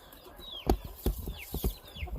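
Chickens clucking inside a coop, a few short close clucks and squawks with faint higher bird calls in between.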